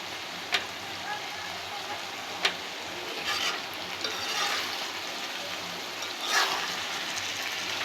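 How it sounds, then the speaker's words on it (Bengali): Food fries in hot oil with a steady, quiet sizzle and crackle, broken by a few sharp pops and occasional louder spits of spattering oil. "ভালোভাবে ভাজা ভাজা করে নেব।"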